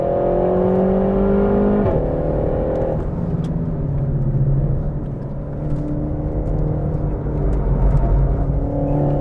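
A 300bhp RenaultSport Megane Trophy driven hard on a race track, its loud engine droning steadily with rising and falling revs and a sharp gear change, heard close and alone without talk.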